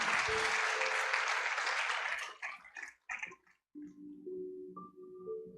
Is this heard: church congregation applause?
yes